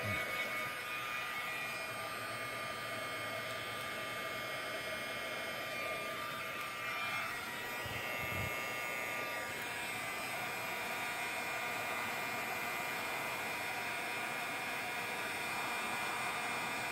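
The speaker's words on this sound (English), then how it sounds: "All you have to do is take your heat tool to it. Make sure it's nice and warm first." Heat embossing tool blowing a steady, close whooshing hum as it warms up, continuous and unchanging for the whole stretch, with no talking.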